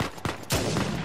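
Gunshots from Uncharted 4 crack in quick succession, two or three sharp, loud reports with short ringing tails, close and with no talking.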